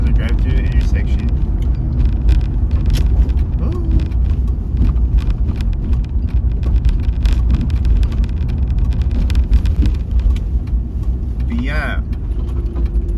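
Car interior while driving through an intersection, with steady road and engine rumble throughout, a mail truck nearby, and a person talking briefly over the noise.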